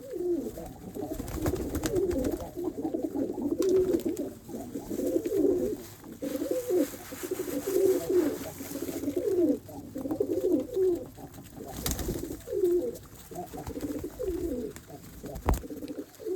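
Pigeons at the Sona Masjid pigeon farm coo in overlapping, rhythmic throaty bursts that repeat steadily, joined now and then by a sharp knock or flutter.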